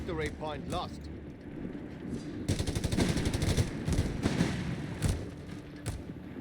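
MG42 machine guns and other small arms fire in a Company of Heroes 3 battle between Wehrmacht and US forces, heard as dense rattling bursts and scattered shots mixed with explosions.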